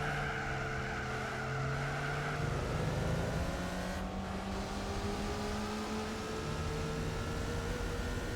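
A race car's engine in Gran Turismo 4 on the Deep Forest track drones with a thin, buzzing tone that rises and falls through gear changes, steady and continuous, with other cars faint beneath it.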